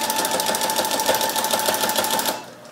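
A domestic sewing machine stitching and backstitching fabric, a rapid chattering needle rhythm at close range that runs steadily for over two seconds before winding down.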